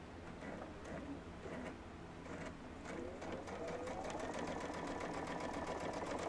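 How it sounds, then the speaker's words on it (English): A sewing machine stitching quilt pieces for a puff quilt, running in a rapid, steady mechanical chatter with regular needle ticks that speed up toward the end, close and continuous with no voices. "I'm just going to sew these really quick."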